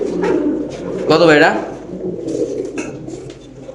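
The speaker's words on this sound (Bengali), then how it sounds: "এখানে আছে একটা টাইগার ডেনিশ কবুতর নাকি ভাই?" Tiger Danish pigeons coo at a pigeon farm, a soft low murmur running under a man's close, loud conversation, with a faint clink or knock partway through.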